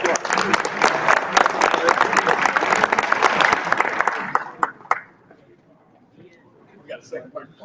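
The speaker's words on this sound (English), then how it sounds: "Let's give him a round of applause." Crowd applause at an inspirational talk as a speaker is welcomed, loud dense clapping for about four seconds before thinning to a few scattered claps and fading into near quiet with faint sounds.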